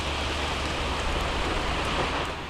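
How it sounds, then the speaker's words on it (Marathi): Rain falls steadily outdoors as a constant, dense wash of noise at moderate level, holding evenly for the whole stretch with no voices. "बाहेरचं वातावरण बघा एकदम छान वाटतंय बघा पाऊस पडतोय बघा"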